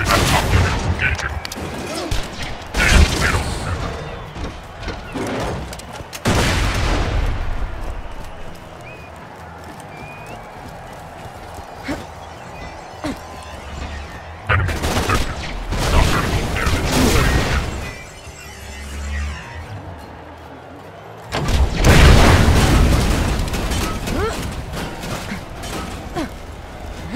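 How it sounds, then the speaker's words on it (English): A grenade launched and exploding, with gunfire, in Borderlands 2: several loud, sharp bursts stand out against quieter background game noise and occasional voices. "Firing grenade on top of it, engaging."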